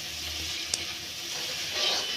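Spices frying in a pan for a curry with gourd, a steady close hiss and crackle of sizzling oil that runs throughout with one brief sharp pop partway through.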